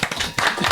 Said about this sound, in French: que je demande d'applaudir chaleureusement